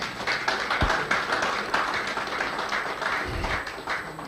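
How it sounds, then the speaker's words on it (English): A gathering of the Guild of Corporate Online Publishers claps for its outgoing president, with sustained, even applause from many hands and a couple of louder thumps along the way. "I'll appreciate it if we give another round of applause"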